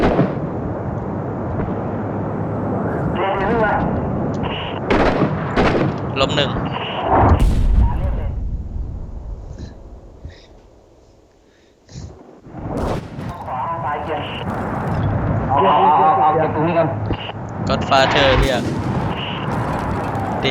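Gunfire and explosions from the combat video game Six Days in Fallujah, with repeated sharp shots and booming blasts over continuous excited voices, pausing briefly mid-way before the firing resumes.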